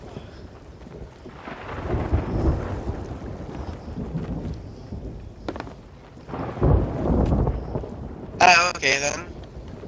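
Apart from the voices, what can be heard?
thunderstorm with rain in video game Sea of Thieves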